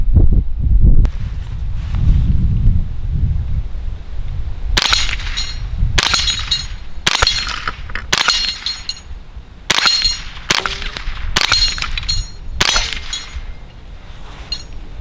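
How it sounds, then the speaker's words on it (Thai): A rifle with a low-magnification scope fires rapidly at steel plates at close range, producing a series of loud, sharp cracks with ringing metallic impacts in quick, irregular bursts. "เดี๋ยวผมจะยิงเพลทแล่นใกล้ๆนะครับ"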